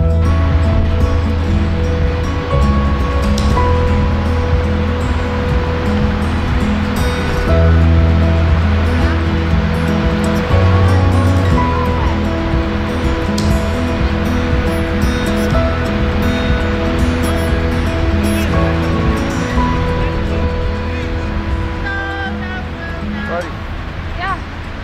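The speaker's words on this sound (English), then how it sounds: "These waves are intense right here." Stormy ocean surf breaks along the Newport, Oregon coast, a loud continuous roar of waves with wind noise, near and steady throughout.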